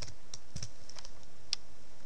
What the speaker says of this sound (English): In the top right here, just type in screenlets.